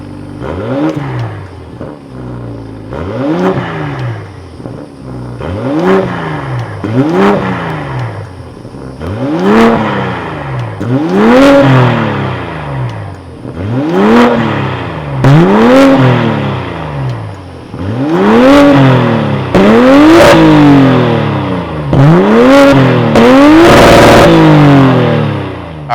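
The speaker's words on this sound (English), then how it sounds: "let's fire up this 3-liter twin-scroll turbocharged inline 6-cylinder B58 engine" A BMW M440i xDrive's 3-liter twin-scroll turbocharged inline-six B58 engine revs repeatedly in sharp bursts, each rising and falling in pitch, about a dozen revs in steady succession, loud and close with no talking.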